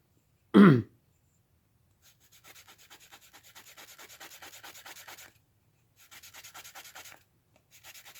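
Solid wood Armear slicker block rubbing briskly along a leather edge, a close, steady scraping friction in two bursts of rapid strokes after one sharp knock.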